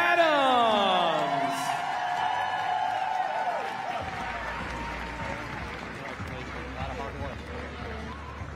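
A steady wash of crowd applause and cheering rises at a CrossFit Games awards podium as an announcer's voice trails off, sustained and fairly distant through the arena.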